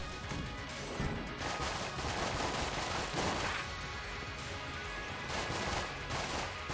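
Rapid, continuous gunfire from a weapon in Enter the Gungeon, dense bursts of shots and impacts running throughout at moderate volume with no talk.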